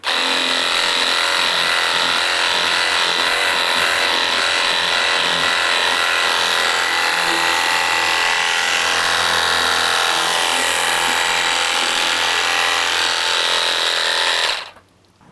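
A pressure washer sprays pre-soak onto a vehicle in a loud, continuous, close hiss with a motor drone underneath, stopping abruptly at the end.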